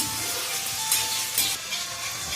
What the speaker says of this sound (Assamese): তাতে পিঁয়াজখিনি দিলে পিঁয়াজখিনি অলপ লৰাই লৈছে।